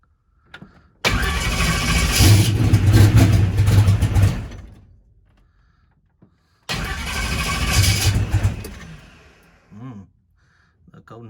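A car engine cranks and catches twice, each start followed by a few seconds of rough running before it cuts out, close and loud, with someone talking in the gaps.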